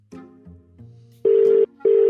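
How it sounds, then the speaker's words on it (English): After a few low dial tones, a telephone ringback tone sounds twice as loud, steady buzzing rings separated by a short pause, heard alone with no talking. "It's ringing."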